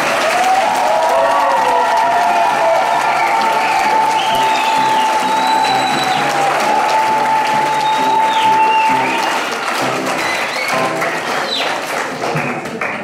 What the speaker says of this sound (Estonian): Seega ma palun veel kõigile väga suur aplaus